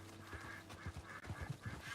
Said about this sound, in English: Oh, where are those ducks at?